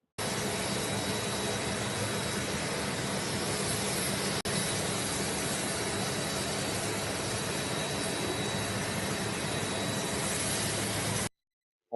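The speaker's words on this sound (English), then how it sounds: "The plane is way too noisy and stuff." Loud, steady broadband roar of an airplane cabin or engine, constant and unbroken for about eleven seconds apart from one momentary cut, with no voices.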